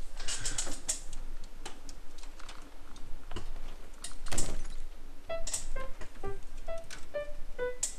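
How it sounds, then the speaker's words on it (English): Quick, irregular taps and clicks from a computer keyboard come through at close range with no voices, while scattered short electronic beeps sound toward the end. "Randomly pressing things into my computer kind of seemed to work."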